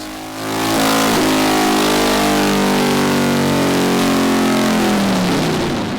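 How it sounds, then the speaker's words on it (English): A Harley-Davidson Sportster 883 fitted with upgraded cams revs hard on a dyno, the engine climbing to a loud sustained roar and holding it for several seconds before beginning to ease off, close and without talk. "we're ready to go back on the dyno to see our results"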